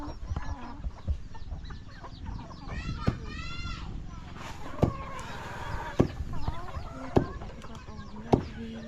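Free-roaming chickens in a Thai village cluck and squawk nearby, with sharp calls repeating every second or so and a crow-like burst, while someone talks over them.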